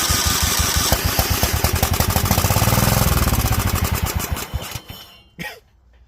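The Kohler engine of a 2004 John Deere L110 lawn tractor cranks with loud, rapid rhythmic chugging, catches and runs rough. It then sputters and dies down, heard up close.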